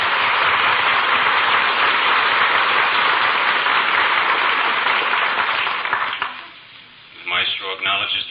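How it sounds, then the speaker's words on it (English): Audience applause for a philharmonic orchestra on a 1945 radio comedy broadcast, dense sustained clapping that fades out after about six seconds, followed by someone speaking. "The Maestro acknowledges the applause"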